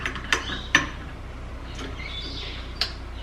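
Scraping and clicking of a spoon stirring a petroleum jelly mixture in a pot over a double boiler, with several sharp metallic taps against the rim spaced irregularly over a soft, steady background hiss.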